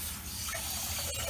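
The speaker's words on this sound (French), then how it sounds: "Je rajoute de l'eau." Water poured from a tap into a cooking pot already holding white wine for a squid sauce, a steady close rushing fill throughout.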